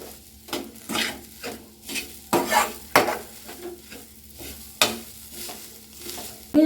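A spoon stirring spices into a crispy snack mixture in a pan, with repeated scraping strokes in an uneven rhythm and a faint sizzle underneath, close and fairly quiet.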